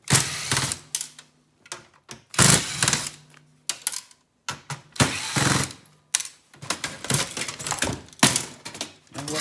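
Screws holding down a computer motherboard being removed with a power screwdriver during scrapping, in short irregular whirring bursts with clunks and pauses between them, close up, no talk.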